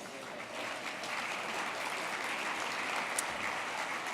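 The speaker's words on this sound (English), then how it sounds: "please give them a warm round of applause?" An audience at an awards event gives a warm round of applause, a dense, even wash of many hands clapping together, heard from a moderate distance with no voices.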